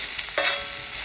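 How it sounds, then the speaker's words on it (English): Lamb keema balti with small-cut potato pieces being stirred in a pan, one brief scraping stir over a steady background hiss, close and alone with no voices. "You know, you're just stirring it in,"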